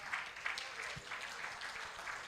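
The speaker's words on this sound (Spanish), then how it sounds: "Denle un aplauso a Jesús" A church congregation applauds at the close of a sermon, a soft, distant patter of clapping with a few sharper individual claps standing out.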